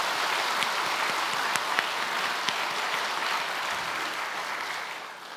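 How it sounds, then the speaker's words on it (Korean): A church congregation at a Sunday worship service at Suwon Sung Church applauds together, a dense, steady wash of clapping with a few sharper claps standing out, tapering slightly at the end. "우리 감사하는 박수 한번 할까요"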